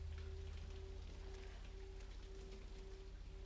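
Timefall rain in the Death Stranding game falls as a soft, steady patter over a faint low hum, quiet and continuous.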